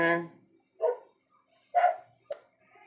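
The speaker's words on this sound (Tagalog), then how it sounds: "Diba ba yung mga aso namin?" A few separate dog barks and yips, fairly close, spaced out with quiet gaps between them.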